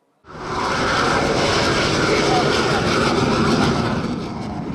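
Indian Air Force jets and helicopters flying over an air show at Hindan Airbase, Ghaziabad: a loud, broad roaring engine wash swells in quickly and holds steady for several seconds before easing slightly.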